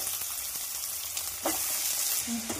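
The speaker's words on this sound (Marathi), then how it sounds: "त्यानंतर अर्धा वाटी शेंगदाणे टाकायचे। त्यानंतर कांदा आणि मिरची टाकायची। त्यानंतर त्यात आलू टाकून द्यायचे।" Peanuts, chopped onion, green chili and potato sizzle in hot oil in a pan, a steady close crackling hiss broken by a couple of brief stirring scrapes, with no voices.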